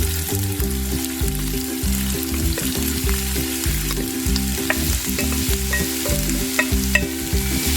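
Two large finely chopped onions frying in a pan for egg chilli, giving a loud, close, continuous sizzle broken by rhythmic, repeated stirring and scraping strokes throughout.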